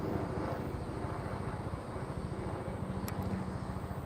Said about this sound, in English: Ooh, there's a helicopter.